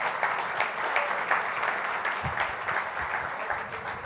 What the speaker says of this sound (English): Clap for yourselves for coming out.